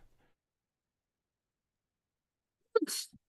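A single sharp human sneeze bursts out near the end after a long stretch of near silence, close and loud, followed by a brief trailing breath.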